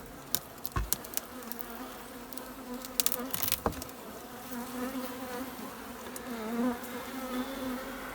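Bees from a new colony working inside an old, died-out hive, a steady low buzzing drone throughout with a few sharper knocks and scrapes near the start.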